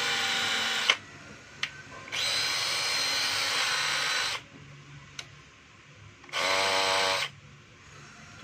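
A DeWalt DCD771 cordless drill runs in three loud, high whirring bursts, the longest about two seconds, separated by near-silent pauses with a couple of sharp clicks and no talk.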